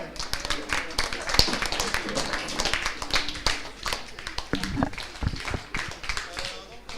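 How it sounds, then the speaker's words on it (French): Scattered audience applause at a science and philosophy café, uneven and moderately close, with sharp individual claps rising and falling in density and some voices underneath. "Merci, on peut les applaudir, s'il vous plaît."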